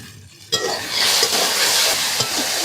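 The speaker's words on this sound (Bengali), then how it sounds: "তো সামান্য জল দিয়ে দেব তো মশলা দিয়ে কি সুন্দর তেল ছেড়েছে দেখো" Spice paste frying in oil for a Bombay duck fish curry in a Sundarban village kitchen: after a brief quiet start comes a loud, steady sizzle, with occasional stirring scrapes and faint utensil clinks.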